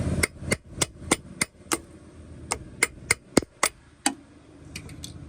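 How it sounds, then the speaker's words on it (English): Sharp metallic hammer taps ring out one after another while an Audi A5 3.0 TDI prop shaft is knocked loose from the all-wheel drive unit, about a dozen close, fairly evenly spaced strikes with short pauses and no talking. "then you just tap it with a hammer like this"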